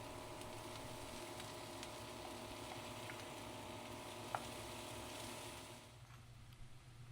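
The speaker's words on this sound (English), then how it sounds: "Then add the tomatoes and fry for about 2 to 3 minutes more." Tomatoes frying in a pan of curry, a steady soft sizzle with faint crackle, continuous and moderately quiet, easing slightly at the end.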